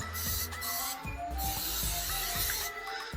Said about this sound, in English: I'm gonna hit it with a little spray of olive oil.